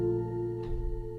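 Coral Garden keys preset from the Alchemy synth in Logic, a soft pad-like sustained chord with a faint brighter shimmer midway, short and alone without speech.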